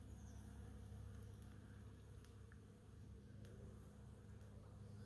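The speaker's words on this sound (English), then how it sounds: "Honeybees." A swarm of honeybees drones in a dense, continuous buzz, steady and faint, with no voices over it.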